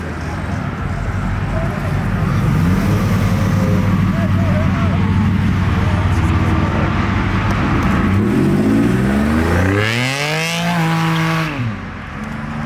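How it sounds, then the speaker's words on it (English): A twin-turbo V6 Ford Mustang said to make about 600 horsepower revving and accelerating away from a car meet, a loud continuous engine roar that climbs through rising gear sweeps toward the end, with voices over it. "That's a twin turbo V6 Mustang, something kind of interesting, unique."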